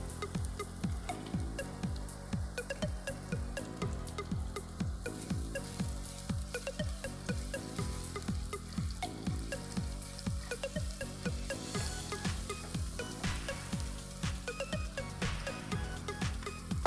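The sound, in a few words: ginger and garlic paste frying in a pan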